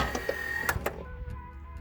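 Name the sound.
Pontiac Fiero headlight motor running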